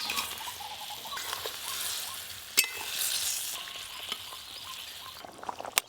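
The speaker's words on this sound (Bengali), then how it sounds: "এবার মাছগুলো দিয়ে আরেকটু ভালো করে ফুটিয়ে নেব" Fried snakehead fish simmers in a spicy mustard-oil gravy, a soft steady sizzle and bubbling patter with faint stirring clinks and a sharp scrape or tap near the middle.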